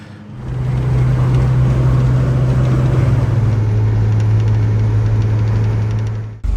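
Steady, loud drone of a Volvo P1900 engine while driving, a low rumbling hum with cabin roar held constant for several seconds before dropping off abruptly, with no voices.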